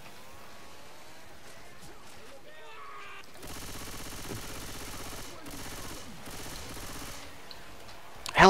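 Rapid automatic gunfire from the video game Left 4 Dead 2, a dense sustained burst of shots at low level, with some talk before it.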